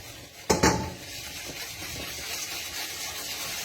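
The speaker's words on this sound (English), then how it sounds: "So it's really simple, all in the one bowl, mix it in well." A utensil clinks sharply against a bowl, then melted chocolate, butter, sugar and eggs are mixed into a brownie batter with a steady, close, wet scraping.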